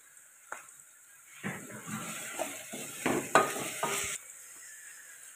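Hog plum blossoms frying in hot oil in a pan, giving a steady close sizzle with bursts of stirring and utensil scraping that rise and fall before easing off near the end.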